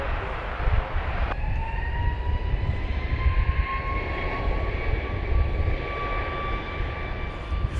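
An airliner at Dallas Love Field airport: a loud, continuous jet engine roar with a rising whine, steady and fairly near, heard on its own.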